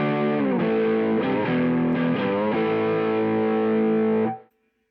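Distorted electric guitar played through a NUX MG-101 multi-effects unit on its Vox amp model, sustained chords ringing with slight pitch shifts between changes, loud and alone before cutting off near the end.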